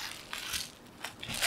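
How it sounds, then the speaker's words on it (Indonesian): Scissors cutting through layers of bubble wrap packaging around a CCA CA2 earphone box, with a few crisp crinkling snips and crackles at close range. "nggak susah, kita pakai gunting saja"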